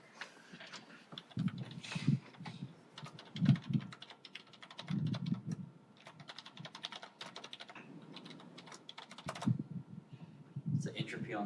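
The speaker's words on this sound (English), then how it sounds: "Typing at an angle I can't do." Computer keyboard typing clatters in quick bursts of keystrokes, close and moderately loud, pausing briefly between runs while people talk nearby.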